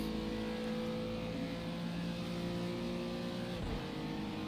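GT4 race car engine at Bathurst in a racing video game, a steady loud in-cabin drone with sustained harmonic whine, holding pitch then briefly dipping near the end as the car shifts or lifts.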